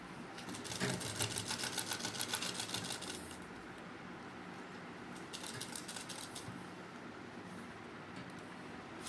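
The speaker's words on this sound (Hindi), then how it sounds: "फिर हम इसको एक सिलाई लगाएंगे बिल्कुल इसकी किनारे पे, टॉप स्टिच" A sewing machine top-stitches along the edge of salwar fabric in two quick runs of rapid, even needle clatter, a short pause between them and quiet room hum after.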